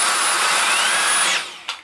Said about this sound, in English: we're going to test it out on my actual stick vacuum. So this one here is actually spinning